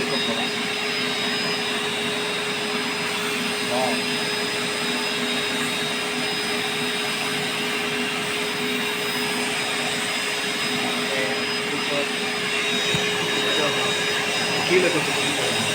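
A vacuum cleaner runs continuously while sucking up debris from furniture, a steady close-up whining drone with a constant pitch and no pauses for the whole stretch.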